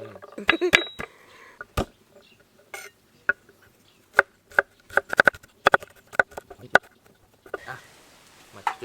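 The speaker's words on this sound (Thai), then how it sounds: "มาหั่นกระเทียมกันนะครับ" A knife taps sharply on a cutting board, chopping garlic in irregular clusters, with light clinks of kitchen utensils between them.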